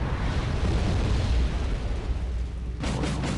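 Artillery shelling a stretch of woods in the strategy game Wargame, heard as a continuous dense rumble of blasts, loud and sustained, with a slight dip and a few sharper bursts near the end.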